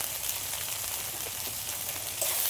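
Ground spice paste with garam masala, salt, turmeric and chilli powder frying in oil in a pan for khichuri, a dense, even hiss of sizzling that holds steady throughout, close and without voices.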